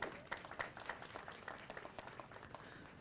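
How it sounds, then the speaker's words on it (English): Audience applause at a civic event, quiet scattered clapping with distinct hand claps in a fairly even rhythm, sounding somewhat distant and fading slightly across a few seconds. "Let's give a round of applause to all those who participated in this work."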